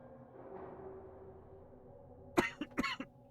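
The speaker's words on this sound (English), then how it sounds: "One second, I need to mute to cough." A close, sharp cough fired in a short burst of two or three hacks, preceded by quiet muffled room sound and a low voice murmuring.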